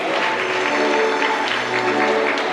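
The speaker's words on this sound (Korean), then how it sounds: "여러분들 감사의 박수로 맞이해 주시기 바랍니다" Steady, dense applause fills a wedding hall as guests welcome the bride and groom's families, loud and continuous throughout with a faint hum of crowd beneath.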